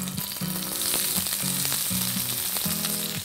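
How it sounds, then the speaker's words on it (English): Three sliced onions fry in hot oil on a tawa, a loud continuous sizzle with regular stirring scrapes about every half second, close up and with no voices. "The oil is hot. Let's add 3 onions that are sliced."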